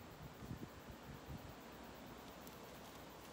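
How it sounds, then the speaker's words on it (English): Strong wind moving through a forest tree canopy in the bush, a steady broadband rushing roar with a few louder gusts, heard alone without talk. "the wind is quite strong today"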